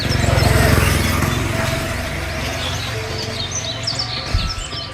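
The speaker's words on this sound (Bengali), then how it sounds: "পাখিগুলো অনেক কিচিমিচি করতেছে" Birds chirp and tweet in the distance over a low rumbling background, with a few brighter calls standing out toward the end.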